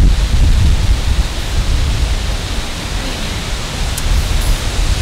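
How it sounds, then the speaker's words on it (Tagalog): Steady broadband rain roar during a typhoon, with a low rumble of thunder underneath, continuous and fairly loud with no voices. "May bagyo nun."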